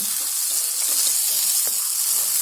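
Grated potato roasting in a pan for batata halwa gives a steady, bright sizzle with faint scraping stirs, continuous and fairly close throughout.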